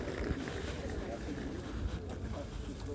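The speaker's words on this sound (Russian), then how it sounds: "Ой, какой ветер." Strong gusty wind buffets the microphone at an outdoor market in Kyiv in March, a constant low rumbling roar with irregular swells that sits close and fairly loud, with people's voices faintly under it.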